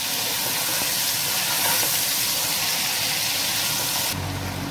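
Chicken fries in a pot for Afghani pulao, a loud, steady sizzle and hiss close up that runs for nearly five seconds before shifting to a lower, duller bubbling tone at the end.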